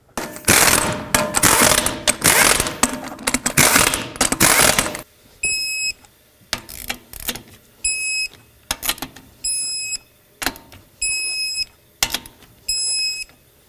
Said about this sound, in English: Start on all 5 of your lug nuts, snug them up, and then torque them to 100 foot-pounds.